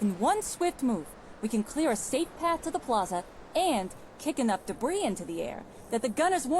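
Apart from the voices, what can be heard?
No everyday noise stands out behind the speech.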